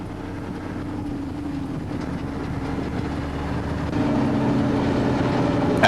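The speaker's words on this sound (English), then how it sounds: "listen to the engine" A dump truck's engine drones steadily while the truck drives, a low, continuous rumble with a slight rise in level partway through.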